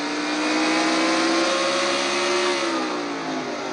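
A Castrol GTX Cup Series race car engine screaming through a turn, its pitch sliding down from around 8,900 RPM to about 4,800 and back, loud, continuous and close.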